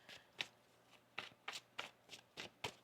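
A tarot card deck is shuffled in a quiet room, giving about seven crisp riffles and slaps in an uneven rhythm, close and faint.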